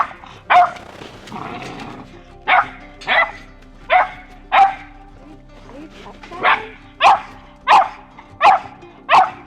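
A dog barks repeatedly, loud and close, in a steady rhythm of sharp single barks with brief pauses between them.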